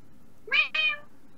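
A cartoon cat gives two short, bright meows in quick succession from a Sonic Boom episode, clear and fairly close over a quiet background.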